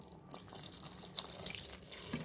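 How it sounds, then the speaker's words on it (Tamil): Water is poured into beef gravy in a pan, giving a short, soft splashing trickle with a few drips, close and quiet. "நம்ம இதில் தேவையான அளவு இப்போ தண்ணி சேர்த்துக்கிறோம்."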